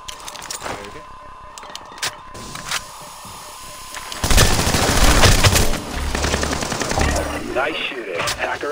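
Bursts of automatic gunfire in a tactical multiplayer shooter match as a hostile hacker is taken down, loud and rapid, building into a dense sustained volley over in-game radio chatter and voices.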